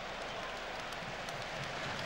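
Applause and cheering from a football stadium crowd during FC Twente against Roda JC, a steady, distant wash of clapping and crowd noise, fairly faint.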